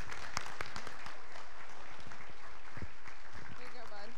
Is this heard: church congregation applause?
yes